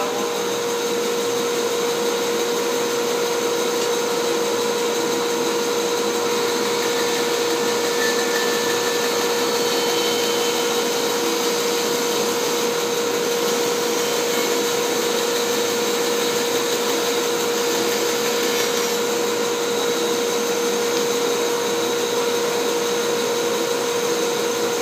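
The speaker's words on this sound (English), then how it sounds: "Dust collector on." A dust collector runs in a woodworking shop, a loud, unbroken whooshing drone that holds steady the whole time with no talk over it.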